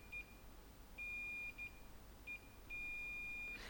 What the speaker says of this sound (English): the multimeter will beep like that